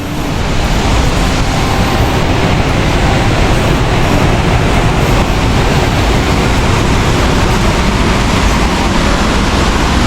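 Water rushing down a Barit River irrigation channel in Iriga, a loud, steady broadband roar that stays constant throughout with no voices.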